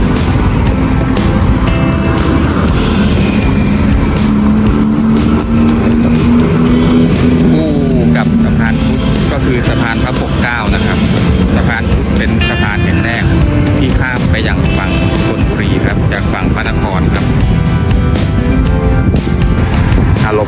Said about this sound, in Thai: รถที่ผ่านก็หลายสายนะครับ ที่ผ่านตรงปากของตลาดครับ